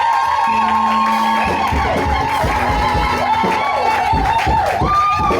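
A large church crowd at a youth camp cheers and shouts continuously, loud and sustained, with whoops and voices rising over a constant roar of acclaim.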